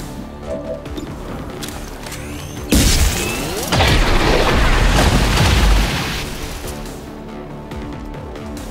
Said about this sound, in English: Why does everything around here always have to explode?